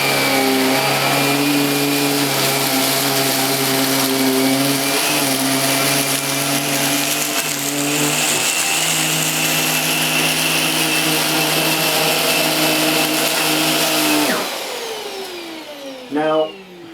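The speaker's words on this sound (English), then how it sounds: "So I'm going to switch the machine on, turn on the power nozzle, make sure that the suction is on maximum" A Vax Air Revolve Pet vacuum cleaner with power nozzle on and suction at maximum runs with a loud, steady motor whine and roar, holding for about fourteen seconds before it powers down and winds off.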